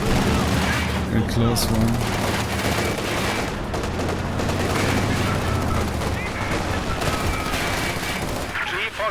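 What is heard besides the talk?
gunfire in a video game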